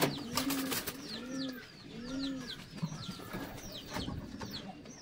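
White lakha pigeons coo in a loft, soft repeated rolling coos close by, with quick chirps from young birds and some light rustling.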